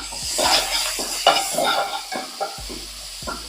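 Onions, curry leaves and chana dal sauté in a pan with a soft sizzle, broken by repeated scraping stirs of a spoon against the pan at an uneven rhythm, close by and with no talk.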